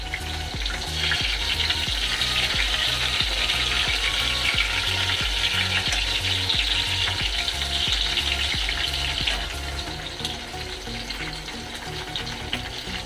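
Stuffed brinjal frying in a pan on a gas stove, a steady loud sizzle with faint rhythmic stirring or scraping underneath, easing slightly near the end.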